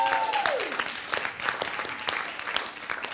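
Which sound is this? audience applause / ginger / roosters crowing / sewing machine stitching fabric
audience applause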